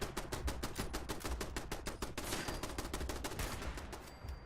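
Automated turrets firing in Fallout 76, a rapid, evenly spaced stream of sharp shots hammering away for several seconds at a steady rhythm, with nothing else over them.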